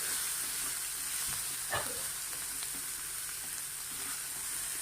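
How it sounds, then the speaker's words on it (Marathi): Dal sizzles and fries steadily in hot oil during tempering, a soft continuous hiss with occasional stirring clicks, close and faint, with no talk. "आता तेलावरती ही डाळ व्यवस्थित आपल्याला फोडणीमध्ये परतून घ्यायची आहे"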